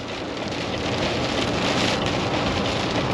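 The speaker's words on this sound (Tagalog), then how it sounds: "Lakas ng ulan eh." Heavy rain pounds a moving truck in a wet, windy storm on a highway, a dense, loud and continuous hiss of drops drumming on the cab.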